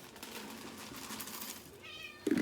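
A cat meows close by near the end, one short loud call after a quiet stretch of soft indoor background noise.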